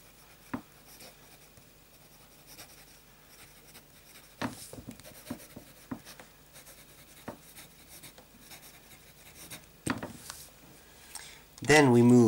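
A somewhat wet medium-nib fountain pen writing on paper with Papier Plume Forget-Me-Not Blue ink, giving faint, close scratching strokes in short irregular bursts, with a louder rustle at the very end.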